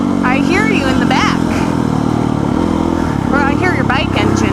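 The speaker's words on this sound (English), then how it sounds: "I hear your bike engine in the back" A motorcycle engine runs steadily behind a rider on a trail ride, loud and continuous throughout, while a person talks over it.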